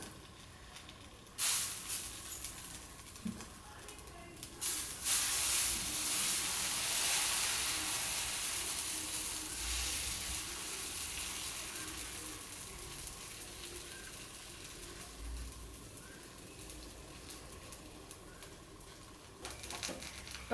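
Green gram dosa batter, pesarattu style, sizzles and hisses steadily on a hot dosa griddle, with a louder burst of frying as the batter spreads, then a sustained close crackle with no talk.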